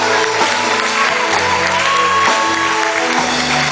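Church congregation at an evening ordination service applauding and shouting, a loud continuous wash of clapping and cheers layered over sustained organ or keyboard chords.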